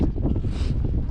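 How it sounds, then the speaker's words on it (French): Wind on the summit of the Pic des Mouches on Sainte-Victoire buffets the microphone in a brief, loud, rumbling gust with no voices. "Le vent arrive d'ici."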